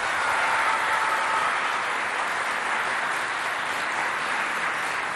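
A large audience of students at a school show between two colleges fills the space with continuous, dense applause, a steady wash of clapping and crowd noise with no breaks.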